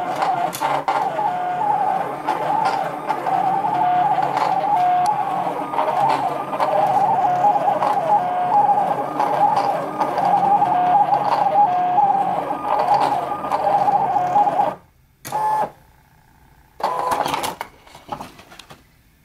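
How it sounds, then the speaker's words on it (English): A Silhouette Portrait 3 or Cameo cutting machine with a 2mm manual blade cuts craft foam, a steady mechanical whir with rhythmic clicks and motor pulses that stops abruptly near the end, with brief resumptions. "now you're ready to send your project to cut on your Portrait 3 or your Cameo"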